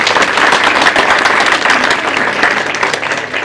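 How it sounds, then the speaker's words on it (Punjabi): A college audience at a campus talent show breaks into loud, dense applause, many hands clapping together close and continuously for the whole stretch. "ਸੋ ਜ਼ੋਰਦਾਰ ਤਾੜੀ ਪਹਿਲਾਂ ਇੱਕ ਆਪਣੇ ਲਈ"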